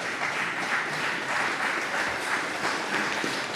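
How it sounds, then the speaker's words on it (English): A football media day audience applauds the coaches with sustained, even clapping that fills the room from start to finish. "So if you guys can get them a round of applause."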